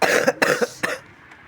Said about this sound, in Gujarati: આટલી વારમાં ઉધરસ થઈ ગઈ